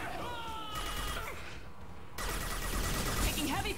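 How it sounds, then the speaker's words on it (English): Heavy gunfire in the video game Mass Effect 2, dense rattling bursts that briefly drop away mid-stretch, then surge back loud and continuous, with some voice sounds mixed into the battle noise. "Taking heavy fire!"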